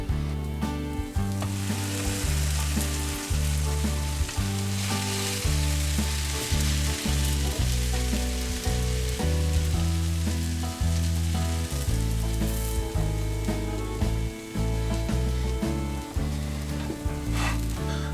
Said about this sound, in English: I'm gonna melt the butter in the pan and then just cook it that way